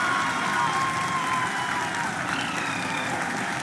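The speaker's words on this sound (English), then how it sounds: "People are applauding." A large crowd applauds steadily at the Chandrayaan-3 lunar soft landing, dense continuous clapping with faint crowd murmur, heard from a distance.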